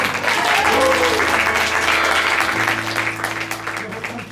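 Loud, continuous applause from a theatre audience at an improv festival show holds strong and then fades a little toward the end, with some voices mixed in underneath.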